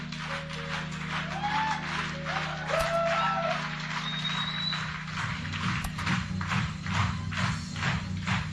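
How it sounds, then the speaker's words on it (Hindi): A crowd at a stage event claps steadily for leaders coming up, the clapping dense and continuous throughout with a raised voice and a rumbling hum underneath. "एक जोरदार तालियां होनी चाहिए डायमंड एंड अबव के लिए"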